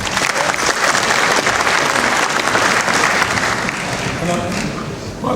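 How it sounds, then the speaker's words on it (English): Dense, loud applause from a large audience at a university graduation ceremony, a continuous wash of many hands clapping that holds steady throughout, with voices faintly mixed in. "could you keep the applause and the energy going?"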